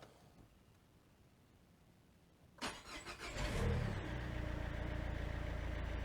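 On a Citroën C8, the starter cranks briefly and the engine catches with a quick rev, then settles into a steady idle. The sound is close and loud after a quiet start, with no one talking.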